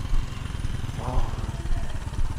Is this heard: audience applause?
no